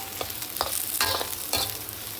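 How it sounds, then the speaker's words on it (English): Maggi goreng noodles being stir fried in a pan over medium-high heat, a constant sizzle broken by a few scraping stirs, close up with no talking. "stir fry it. Put your heat on a medium high,"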